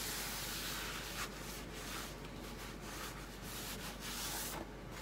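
Gentle rubbing over clear wax on a painted wood craft piece gives a steady, close, soft scrubbing hiss that runs without a break, with slight swells in the strokes and no voices.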